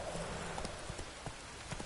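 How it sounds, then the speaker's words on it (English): Horse hooves clip-clop steadily in The Witcher 3 as the horse Roach is ridden, a regular rhythm of muffled hoofbeats over a noisy, rain-like background, with no talk. "get on the fucking horse"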